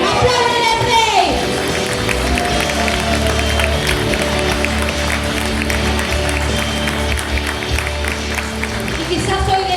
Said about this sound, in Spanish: ¡Aplaudan al Rey!